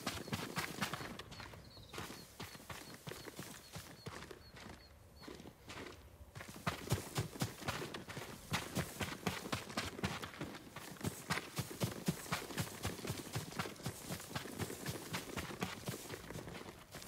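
Rapid, rhythmic hoofbeats pound continuously as a horse gallops in the video game Ghost of Tsushima Director's Cut on PS5, faint at first and then growing stronger and more regular through the second half.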